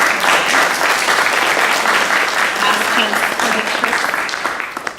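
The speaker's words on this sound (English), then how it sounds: "One more round of applause for all of our recipients." Loud, close applause from a board meeting audience honoring award recipients, dense clapping that holds strong before tapering slightly at the end.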